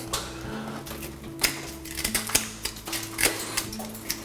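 Cutting a hole in a bathroom wall to fit an electrical box for a vanity light, a quiet run of irregular rapid clicks and taps with sharper knocks scattered through, close and steady with no talk.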